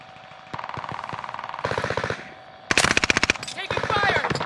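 Rapid automatic gunfire in the shooter game Warzone, several loud close bursts of rattling shots in quick succession, with a voice speaking over part of it.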